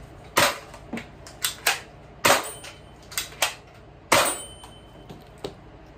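A Dartzone Max Outlaw toy blaster fires foam darts in a string of sharp snapping pops, roughly ten shots with uneven spacing and metallic clicks of cocking between them, close and unaccompanied.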